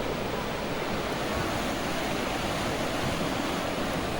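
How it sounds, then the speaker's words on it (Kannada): A waterfall running full after heavy rain, a constant dense roar of rushing water at low level, unbroken and even throughout. "ಮಳೆಯಿಂದಾಗಿ ಜಲಪಾತವು ತುಂಬಿ ಹರಿಯುತ್ತಿದ್ದು"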